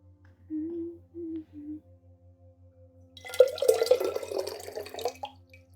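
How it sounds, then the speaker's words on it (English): Water poured into a vessel, a close splashing, trickling stream that starts abruptly after a quiet stretch with a few soft tones and a low steady hum, then continues for a couple of seconds before tapering off. "And I'm just gonna pour some water."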